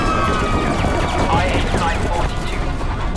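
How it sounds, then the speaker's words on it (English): Dense, chaotic gunfire from a World War II aerial fight, bursts and rattling shots running continuously and loud under tense voices. "Getting shot at."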